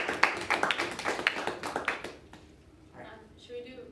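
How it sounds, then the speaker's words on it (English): Debate teams receive applause, a sparse run of individual claps, fairly close and moderately loud, that fades out within a couple of seconds before quiet voices follow. "giving our breaking teams a round of applause for making it this far?"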